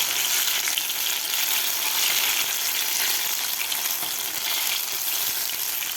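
Paneer pakoras deep fry in hot oil with a steady, dense hiss and crackle of bubbling, close and unbroken for the whole stretch, with no voices.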